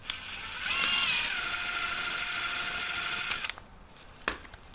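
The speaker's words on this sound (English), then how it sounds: "take an empty bottle, drill a hole in the center of the cap" A high-pitched whirring drill spins up and bores steadily through the center of a plastic bottle cap for a few seconds, then stops, followed by a couple of faint clicks.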